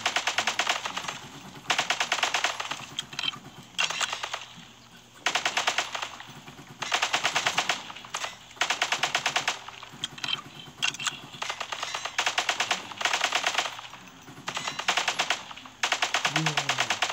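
Rapid machine gun bursts from a World War II video game rattle loud and close, firing in repeated strings of about a second or two with short gaps between them.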